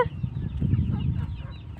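Low, steady clucking from chickens nearby, a continuous murmur of soft clucks without talking.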